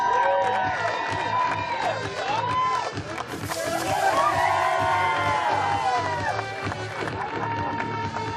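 A crowd cheers and whoops at the finish of the Supertri Chicago triathlon, with loud shouts and whistles rising and falling over music and nearby talk.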